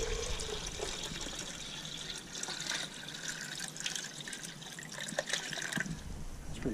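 Water pours and trickles into canning bottles while rabbit meat is being bottled, a steady splashing flow with dripping and gurgling filling sounds, close and fairly loud.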